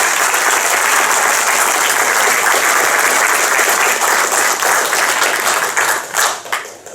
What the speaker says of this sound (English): Could we get a round of applause for all of them?